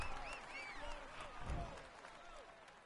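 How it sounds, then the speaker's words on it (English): Crowd applause and cheering in the cycling game Tour de France 16, a steady wash of clapping with faint voices, moderately loud and continuous, swelling briefly partway through. "Come on, let's applaud him once more."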